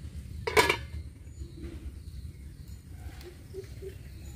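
A metal lid clanks onto a cooking pot on a village clay stove while fish and water spinach cook, one sharp clatter followed by quiet simmering.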